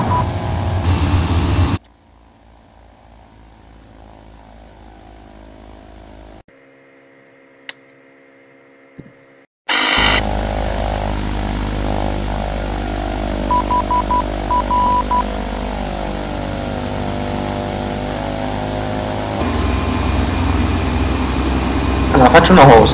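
King Air 350 twin engines in the Flight Simulator 9 game drone loudly and steadily on a flight from Ishigaki to Hateruma, dropping to a faint hum for several seconds midway before the full roar returns.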